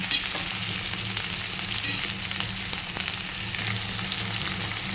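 Chicken liver cooks in a pan with a dense, steady sizzle and crackle, close and even throughout, with faint stirring scrapes and no voices.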